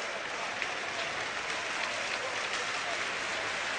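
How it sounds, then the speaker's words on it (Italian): Thousands of mourners applaud at the state funeral in Palermo for Giovanni Falcone and his escort, a dense, steady roar of clapping from a large outdoor crowd, unbroken and loud. "Guardate, migliaia di mani alzate che applaudono."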